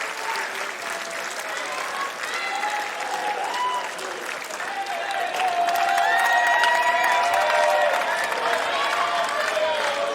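Crowd at a US Open first-round tennis match applauding, sustained dense clapping with scattered cheers and whistles that swells louder midway and continues steadily.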